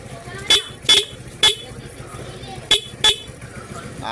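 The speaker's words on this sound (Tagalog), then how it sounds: "Pwede na malakas ng busina natin" A car horn, newly wired through a fresh horn relay, blares in five short loud honks spaced irregularly, two in quick succession, then a pause and two more, over faint background murmur.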